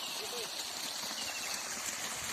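Irrigation water flowing steadily from a chamber into a sugarcane field in summer, a constant rushing trickle with faint outdoor background and no clear talk.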